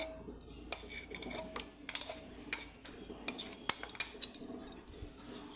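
Ground raw chickpeas being mixed with oats in a bowl, producing close, irregular clinks and scrapes of a metal spoon against the dish in quick uneven bursts, fairly soft, with no talk over it.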